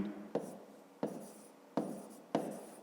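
Pen strokes on notebook paper while working a fifth-grade maths exercise: four short scratchy bursts of writing, each starting sharply and trailing off, close and quiet with no talk.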